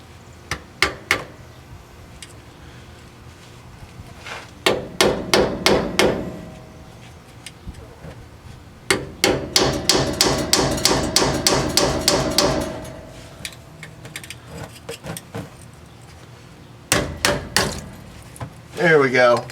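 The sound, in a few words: hammer tapping flat screwdriver to pop differential cover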